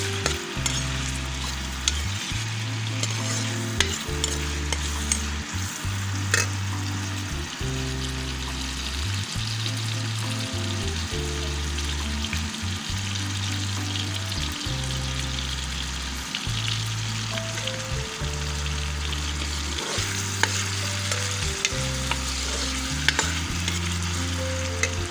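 Onions frying in a pan for a chicken handi: a steady, close sizzle runs throughout, with a repeating low rumbling hum beneath it and occasional stirring taps.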